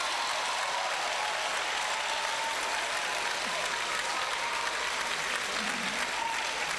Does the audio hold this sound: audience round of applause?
yes